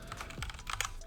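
A computer keyboard being typed on up close, a fast run of overlapping clicky keystrokes entering a command line, steady and moderately loud, no talking.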